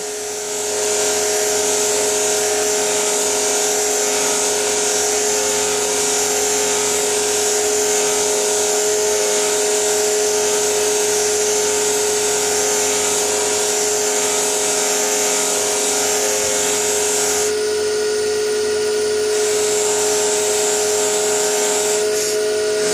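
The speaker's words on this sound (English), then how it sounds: "The actual polishing compound. We rub it first on this wheel." A pen turned against a spinning buffing wheel loaded with polishing compound gives a steady, loud motor whine with high hiss, running continuously before briefly shifting pitch near the end.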